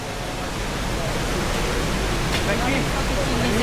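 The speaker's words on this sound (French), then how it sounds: "Cette cascade, appelée Ryuzu no Taki, cascade de la tête du dragon" Ryuzu no Taki, the Dragon's Head waterfall at Oku-Nikko in late winter, roars as a dense, continuous wash of falling water, loud and steady throughout, with a faint voice briefly audible beneath it.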